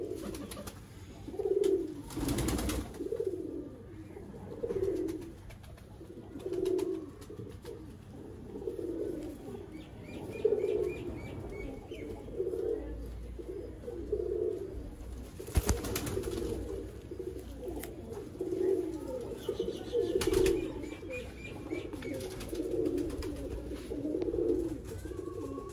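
Pigeons coo repeatedly on a rooftop in Sialkot, Pakistan, a soft, regular run of low throaty calls close by, with occasional louder knocks and faint distant chirps in the background.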